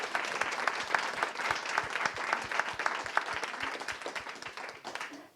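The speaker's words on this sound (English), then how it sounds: "a huge round of applause for this amazing guys" A room of conference attendees applauds the speakers, moderately loud and dense clapping with distinct individual claps, continuing steadily before tapering off at the very end.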